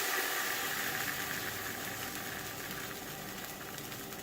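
Stuffed bourbon caramel apple French toast sizzling in a hot copper skillet, a loud steady frying hiss that runs unbroken and close.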